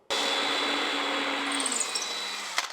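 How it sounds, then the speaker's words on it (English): A power drill whirs steadily for a few seconds, close and loud, drilling holes in a kitchen cabinet drawer front, then winds down with a brief clatter at the end. "I can just hold and drill."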